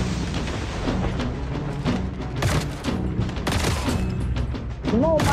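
A turret fires repeatedly in Call of Duty Mobile, a dense, loud stream of shots and booms over game noise, continuing for several seconds with a brief electronic chirp near the end.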